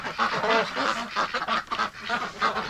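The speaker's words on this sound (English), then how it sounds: "Hello, ducks." Ducks quacking and honking together inside a barn in deep winter cold, a dense, continuous chorus of overlapping calls that keeps pulsing loud and close throughout.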